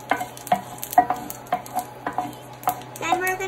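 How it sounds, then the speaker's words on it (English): Dry chili roasting in a pan being stirred, a rhythmic series of about eight spoon scrapes and clinks over a soft sizzle. "Now you're gonna stir it really well"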